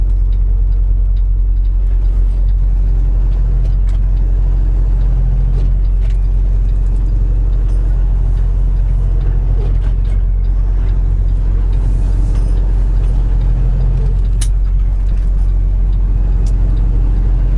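Cars pass by a Kenworth T680 truck, heard as a constant loud low engine rumble and road roar from inside the cab, with faint swells from passing traffic.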